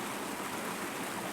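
Running water in a stream, a steady broadband rushing and trickling that fills the whole moment evenly, fairly soft, with no talk.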